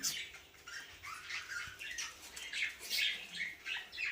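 A pair of lutino cockatiels kept as pets, giving busy chirps, squawks and rustling wing flutters that run continuously at close range with no talk.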